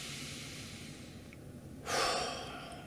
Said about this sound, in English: Okay, breathe.